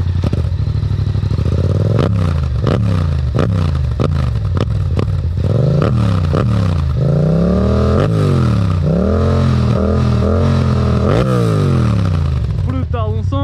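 A Yamaha MT-07 motorcycle with an Akrapovic exhaust revs loudly and close up, in a series of sharp throttle blips that rise and fall, then longer climbing revs and a final quick burst.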